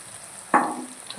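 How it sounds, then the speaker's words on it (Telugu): Small fish (Jenna) drop into a hot oiled pan for frying, setting off a sudden loud sizzle that starts midway and keeps crackling steadily, with no voices. "ఇప్పుడు చేప జన వేసేస్తాం"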